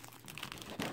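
Plastic bag wrapping on a pack of three DC comic books crinkles up close in a brief, dense rustle that grows slightly louder toward the end.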